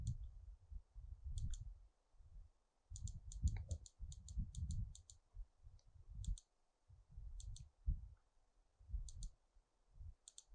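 Buttons on a TI-83/TI-84 graphing calculator are pressed, giving quiet, close plastic clicks in irregular runs and single presses, some in quick bursts of three or four.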